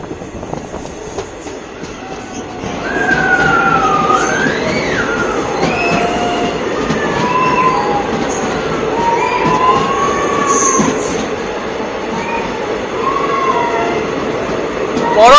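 Dooars intercity express (15767, Alipurduar route) running through a long tunnel, a loud enclosed roar of wheels on rail that swells as it enters, with repeated high, wavering squeals of wheels throughout.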